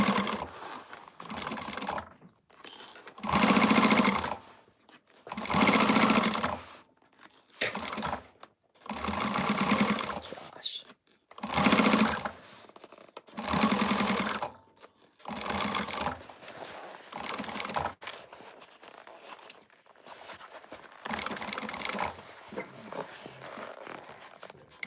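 A home sewing machine stitching a slouch shoulder bag runs in repeated bursts of a few seconds each, with short pauses between seams as the corners are worked, close and fairly quiet.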